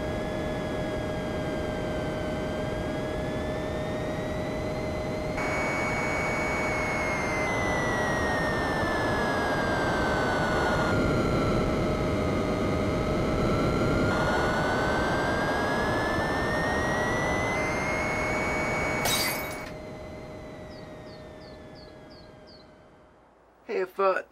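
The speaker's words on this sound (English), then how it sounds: "Oh yeah, I'm finally gonna land the plane." Steady, loud jet-like airplane engine drone from a Nintendo flight video game. It shifts pitch as the plane moves, cuts out near the end, and is followed by a few brief clunks.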